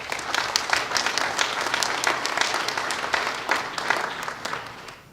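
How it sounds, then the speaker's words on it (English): An audience at a Levitt Shell city event applauds steadily for about five seconds, a dense patter of many hands clapping at once that fades near the end. "if you'd help me with a round of applause there too"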